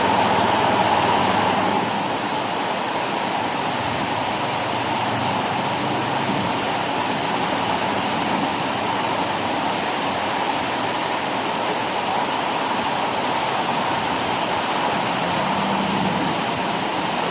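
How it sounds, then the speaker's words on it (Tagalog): A heavy, unbroken downpour roars steadily for the whole stretch, a dense hiss of pouring rain with no voices. "Buhos ang ulan mga boss."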